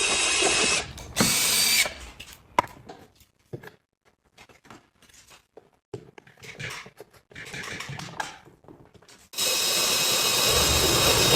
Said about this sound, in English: drill the pocket holes that attach the base to the sideboard